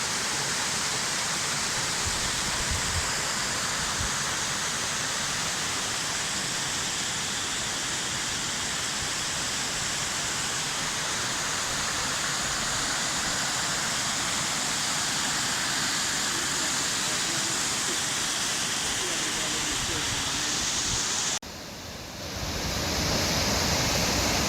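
Oxford Falls cascades and waterfall near Sydney, a steady broadband rush of falling water held at one level throughout, with a brief dip near the end before the roar returns.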